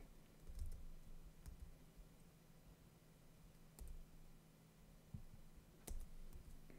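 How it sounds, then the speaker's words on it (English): Light one-handed typing on a computer keyboard, a few sparse clicks and short bursts scattered over a low steady background hum, fairly quiet and close. "So I'm just typing with one hand."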